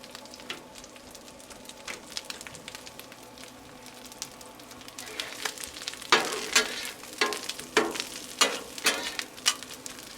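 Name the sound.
chorizo and tortillas frying on a Blackstone griddle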